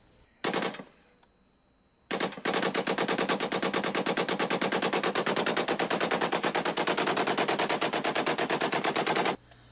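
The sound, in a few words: rapid gunfire from a rifle fitted with a bump stock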